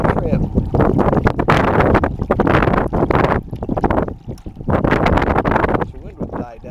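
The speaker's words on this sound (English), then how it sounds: "The wind will die down just a little bit." Strong wind buffets the microphone on a boat out shrimping, roaring steadily with gusty surges and brief lulls, close and loud throughout.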